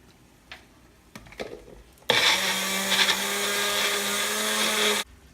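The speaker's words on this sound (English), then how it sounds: "And then we are just going to blend this." A blender whirs loudly for about three seconds, blending taco lettuce wrap ingredients. A few soft knocks and clicks come first, and the motor cuts off abruptly.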